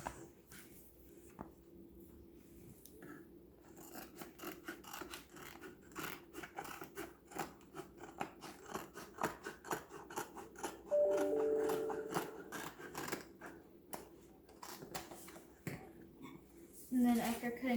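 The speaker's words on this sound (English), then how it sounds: "then you'll take your scissors" Repeated crisp snips and scrapes of scissors cutting excess heat transfer vinyl sheet, irregular and close, with a person talking quietly throughout.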